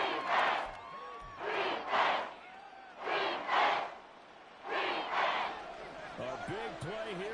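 Stadium crowd noise in the Madden 24 football video game swells in repeated rhythmic waves of chanting and roaring, with tonal whistle-like sweeps toward the end, set under a commentator's voice.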